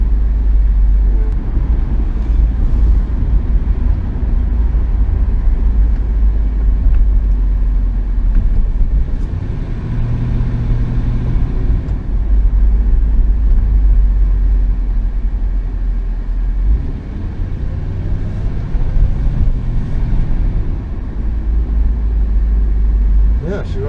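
A 1973 Jensen Interceptor III saloon's engine runs on a warm day, a loud, deep, continuous low rumble close by with slight variations, while a person talks over it.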